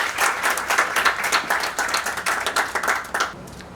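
A crowd at an accountancy orientation session breaks into dense, steady applause to welcome a speaker, many hands clapping together for several seconds before it thins out near the end.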